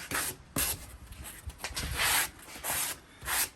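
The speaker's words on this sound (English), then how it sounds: "I could have rounded these edges off a little bit smoother than what I'm getting to do it with this sanding sponge" Rubbing wooden bed-frame edges with a sanding sponge, close rhythmic rasping strokes, about six bursts separated by short pauses.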